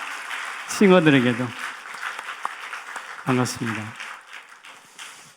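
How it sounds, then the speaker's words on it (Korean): A congregation at a Sunday church service applauds the worship team, with steady clapping running through while someone speaks over it. "우리 2부 찬양팀에게도 격려의 박수"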